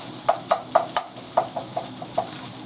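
Onions sautéing with spiced ground beef and an herb spice blend in a pan, heard as a soft steady sizzle broken by a series of sharp spoon scrapes and knocks against the pan, close and fairly loud.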